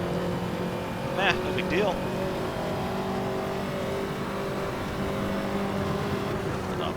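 Ferrari 288 GTO engine in Assetto Corsa holding a steady loud drone with a brief rev and quick upshift near the start, under a short spoken remark.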